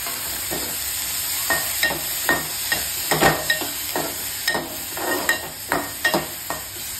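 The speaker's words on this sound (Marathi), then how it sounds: "त्यानंतर हे व्यवस्थित असं मिक्स करून घ्यायचं आहे" Drumstick pods and peeled val beans stirred in a pan, a low sizzle under repeated close spoon scrapes and knocks against the pan's side, with a faint steady hum in the background.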